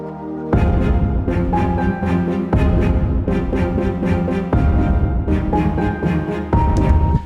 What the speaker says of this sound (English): we've got the piano melody playing with a synth to layer the short strings